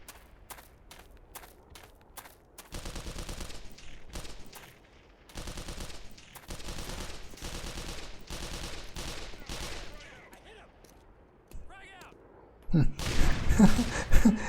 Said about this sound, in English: That's evidenced by all the people shooting at me in this very moment.